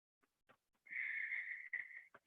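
Slow, deep breathing during a seated yoga pose: a few soft sniffs lead into one long, airy, slightly wheezy breath and a brief catch of air at the end, quiet and close.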